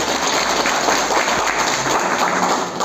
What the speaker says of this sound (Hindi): एक बार मैं चाहूँगा कि जोरदार तालियों से एक बार उनका धन्यवाद।